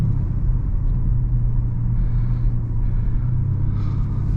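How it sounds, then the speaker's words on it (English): An Alpina B5 Touring estate accelerates hard from a race start on the Autobahn, a steady loud low rumble of engine and road noise heard from inside the car. "So we get the full acceleration of this car. Let's now do the race start and let's start flying."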